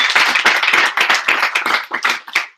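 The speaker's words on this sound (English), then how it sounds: "give another round of applause for Braden." Applause from an audience, a close, loud burst of many hands clapping with distinct uneven pulses that start to thin out toward the end.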